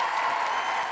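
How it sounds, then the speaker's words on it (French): A television studio audience on a French Saturday-night variety show claps in a dense, steady wash of applause, brief and fairly loud. "que vous pouvez applaudir très fort"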